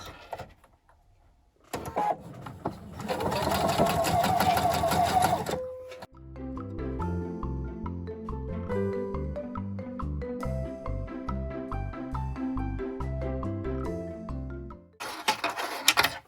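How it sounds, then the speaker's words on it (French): A sewing machine stitches a seam 1 cm in from the edge, joining two sides of an interfaced fabric rectangle for a braided headband. A brief loud whir comes first, then a steady, rhythmic mechanical clatter for about eight seconds. "commencez votre piqûre pour rassembler ces deux côtés ensemble à 1 cm"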